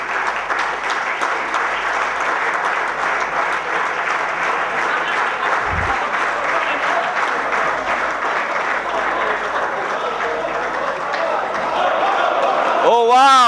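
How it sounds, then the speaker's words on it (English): Loud, sustained applause from the audience at the Mcircle business conclave, a dense wash of clapping lasting throughout, swelling slightly toward the end as other sounds cut in. "So I think a big round of applause"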